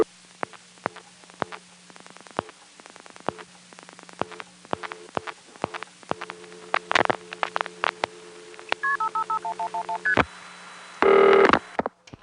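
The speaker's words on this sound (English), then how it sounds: "Now I'm going to dial 1-212-555-1111." Telephone dialing of 1-212-555-1111 through an NX1 crossbar exchange, heard as rapid rhythmic pulse clicks over a steady hum, then a run of short tone beeps and a brief louder burst at the end.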